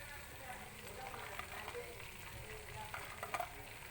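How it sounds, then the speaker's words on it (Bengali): Lentil dumplings are added to a bottle gourd curry simmering in a pan, giving a steady close sizzle with scraping and stirring noises layered over it throughout. "এবার আমি এর মধ্যে বড়িগুলো দিয়ে দিচ্ছি।"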